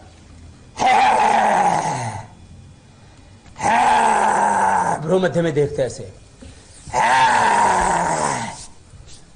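A voice imitates a lion's roar three times with tongue stuck out, as a yoga breathing exercise, with long, loud, throaty growls. Brief speech comes between the second and third roar.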